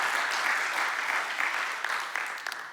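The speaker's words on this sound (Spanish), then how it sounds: "¿Por qué no le da un fuerte aplauso al Señor?" Church congregation applauding during a worship service, a steady, fairly soft roar of many hands clapping throughout, slightly distant and fading a little toward the end.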